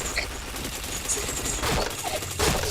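Video game gunfire, a continuous loud fusillade of crackling shots with heavier bursts near the middle and end, steady and close with no voices heard.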